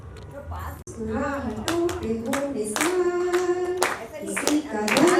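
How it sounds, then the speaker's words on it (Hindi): Guests clapping by hand at a 50th anniversary sangeet, scattered claps over a person singing, with voices and a voice nearby. "थोड़ा ताली वाली बजा देना।"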